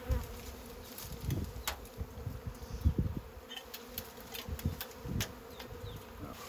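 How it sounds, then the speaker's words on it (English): Honey bees swarm around a propolised log, their buzzing a continuous close drone with rising and falling swells, dotted with faint knocks and rustles from handling the log. "Oh, that's really getting them going. Is it? Yeah, they're really buzzing."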